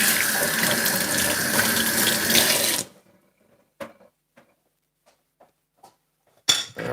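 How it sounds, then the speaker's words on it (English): Boiling water pours steadily for onion tea for about three seconds, loud and continuous like a running tap, then stops, leaving a few faint clinks and small knocks before a short burst of splashing near the end. "It's boiling water I'm using, guys."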